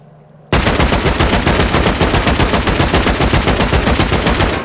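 Loud, rapid automatic gunfire erupts after a brief quiet moment and keeps hammering in an even, fast rhythm while raiding a base in a survival video game; no voices.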